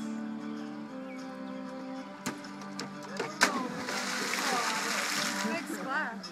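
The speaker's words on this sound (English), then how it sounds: "Big splash." A splash of water from someone plunging into a pool, followed by churning, sloshing water with other sounds around it.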